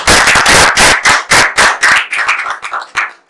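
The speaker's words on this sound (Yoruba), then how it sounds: "Ẹ fún ní àtẹ́wọ́" Bursts of audience hand-clapping at an award announcement, loud and close, coming in rhythmic waves of applause that thin out and fade near the end.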